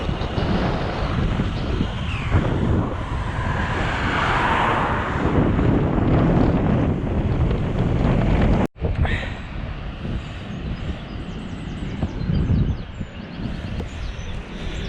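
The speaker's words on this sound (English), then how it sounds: "Windy today, but we are on the coast" Steady, roaring coastal wind at Mumbles, Wales, buffets the microphone with broadband rumble, loud and continuous, briefly dropping out for an instant midway before resuming.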